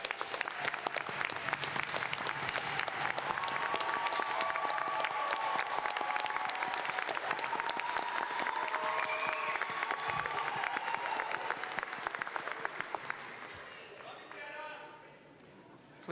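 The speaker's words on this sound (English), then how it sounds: "let's give them a round of applause" Sustained audience applause for standing graduates at an American College of Education commencement ceremony, a dense, even roar of clapping that fills the hall for about thirteen seconds before fading, with crowd murmur underneath.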